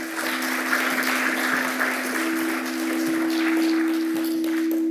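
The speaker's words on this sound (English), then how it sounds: "Everyone, please give her another round of applause." Audience applause at the Last Girl Awards 2025 ceremony, a full steady roll of many hands clapping in a hall, with a constant electrical hum running underneath.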